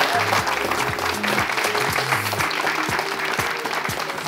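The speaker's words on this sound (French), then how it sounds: "Oh, applaudissez là!" A studio audience on a Togolese television show applauds in a loud, steady burst of clapping that holds for several seconds, with a voice faintly audible beneath it.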